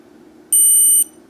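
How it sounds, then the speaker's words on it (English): A single high electronic beep from a Garmin Forerunner 220 sports watch during a reset holds steadily for about half a second, loud and close, over faint low background hum. "hold until you hear the first beep"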